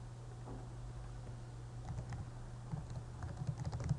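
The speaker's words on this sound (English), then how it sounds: "enter John's Twitter username." Keys clatter faintly on a computer keyboard, quiet at first and then a burst of brisk, irregular taps near the end, as a username is typed.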